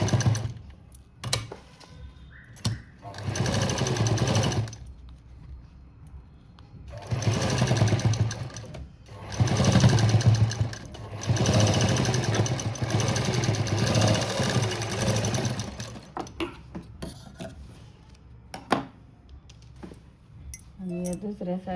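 Domestic sewing machine stitching patchwork from a saree border, running in several long bursts of steady rhythmic whirring and clatter separated by pauses, close and fairly loud.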